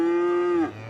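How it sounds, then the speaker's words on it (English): A single cow moos in the city-building game Cities: Skylines, one sustained low bellow lasting under a second, clear and close, then dropping off abruptly. "Shut up, cows."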